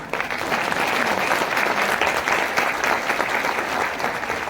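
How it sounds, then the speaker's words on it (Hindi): A large audience at a motivational talk claps in dense, steady applause, loud and continuous throughout with no talking over it. "तालियों के बारे में एक रूल हमेशा बनाना कि जबरदस्ती कभी मत बजाना।"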